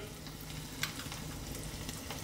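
Spoonfuls of cauliflower pakora batter fry in hot oil with a soft, steady sizzle and one brief clink of the spoon, fairly quiet throughout.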